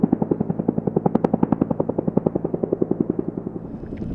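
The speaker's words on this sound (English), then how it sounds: "The helicopters landed on the lake." A helicopter landing on a lake in the Temagami wilderness: a steady, rhythmic chop of rotor blades beating about eight times per second, fairly close and loud, with no voices.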